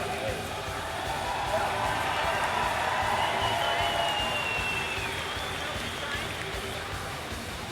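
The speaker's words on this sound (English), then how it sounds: "hearing everybody here in Saku Hall cheering you on" A large indoor crowd in Saku Hall, Estonia, cheers and applauds a BMX rider at a finals event, a sustained roar of voices and clapping filling the arena while an announcer talks over it.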